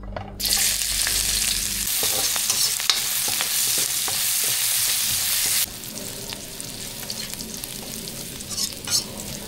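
Food sautéing in a hot pan, with a steady sizzle and repeated utensil scrapes and stirs, close and fairly loud, the sizzle easing slightly partway through.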